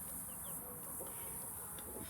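Chickens and a rooster cluck faintly at a distance, a few short scattered calls over a quiet, hissy outdoor background.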